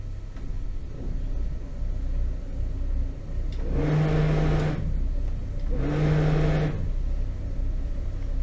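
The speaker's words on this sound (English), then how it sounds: "So I will use both engines to release the boat from the quay." Twin boat engines idle with a steady low rumble while the boat is released from the quay, rising in two clear surges of throttle midway through, with no talking.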